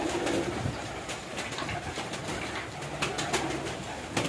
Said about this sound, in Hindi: ये देखिए कबूतर भी बेताबी से इंतज़ार कर रहे हैं दाने का